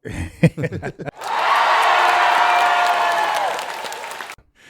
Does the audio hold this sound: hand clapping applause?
yes